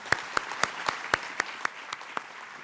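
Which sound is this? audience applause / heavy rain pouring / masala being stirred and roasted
audience applause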